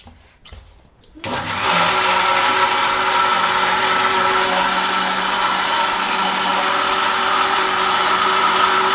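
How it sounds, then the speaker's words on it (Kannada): A mixer grinder starts up after a brief quiet moment and whirs loudly and steadily as it grinds masala paste for a chicken dish, a close continuous motor drone with no talk. "ಮಿಕ್ಸರ್ಗೆ ಹಾಕೊಂಡ್ 5-10 ನಿಮಿಷ ಬೇಕು"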